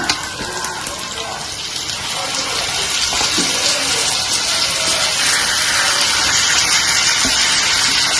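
Steady rushing water pours continuously into a pot of chicken for dum biryani, a full, even splashing flow that holds for the whole stretch with no pauses.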